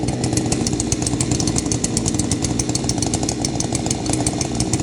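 A chainsaw runs loudly and steadily up close, its engine buzzing with a rapid rattling pulse throughout, with no voices.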